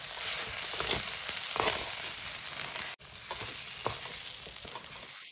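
A spiced potato filling is stirred in a pan, with a steady sizzling hiss and scraping strokes from the spoon running throughout.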